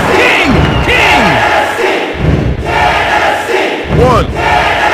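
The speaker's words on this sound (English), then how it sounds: "Listen to this crowd!" A wrestling arena crowd in the WWF Attitude video game roars and cheers loudly and continuously, with chants and shouts rising and falling in dense, close waves.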